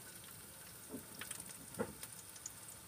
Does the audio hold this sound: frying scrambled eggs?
yes